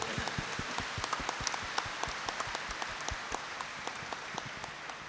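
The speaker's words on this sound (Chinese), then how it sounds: "我们掌声感谢" Applause from the congregation thanking the monastics after the chanting at a Buddhist memorial and merit-dedication ceremony in Malaysia, heard as scattered, fairly quiet claps.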